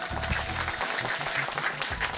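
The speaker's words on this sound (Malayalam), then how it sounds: "എല്ലാവർക്കും വേണ്ടി നല്ലൊരു കൈയടി കൊടുത്തേ" An Onam special show audience gives thick, sustained applause after a folk song performance, with a low droning background underneath the clapping.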